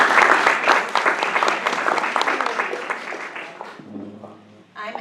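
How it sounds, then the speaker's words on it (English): An audience at a community candidate forum claps for the candidates, a dense, loud burst of applause that fades out after about four seconds, followed by a brief quiet with faint sounds. "And let's please give a round of applause to thank our candidates for agreeing to serve our community."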